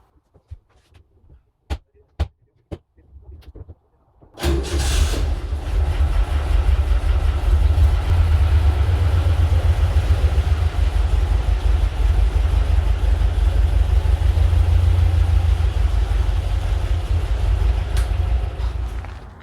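A 1964 Porsche 356 with its 1600cc, 95-horsepower engine clicks a few times, cranks briefly, then fires and settles into a loud, steady, rumbling idle that continues for the rest of the clip.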